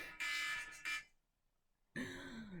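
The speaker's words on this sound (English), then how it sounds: "That's my official wake up alarm." A wake-up alarm sounds as loud buzzing electronic tones in two short bursts, then a pause, then a third burst.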